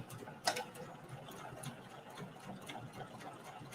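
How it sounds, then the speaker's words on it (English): A sewing machine stitches through two layers of canvas and two layers of lining for a tote bag. It gives a steady, soft mechanical whir with a brief louder knock near the start, and it sounds faint. "we are sewing through 2 layers of canvas, 2 layers of lining"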